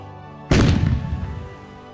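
A single loud firework blast erupts abruptly and then rumbles and crackles away over a second or so, alone with no voices.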